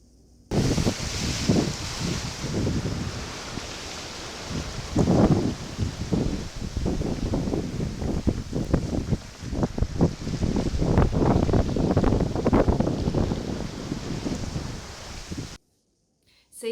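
Strong 30-40 knot wind at sea aboard a sailboat between Mexico and Panama roars and gusts across the microphone with surging water noise beneath, loud and buffeting throughout before cutting out near the end.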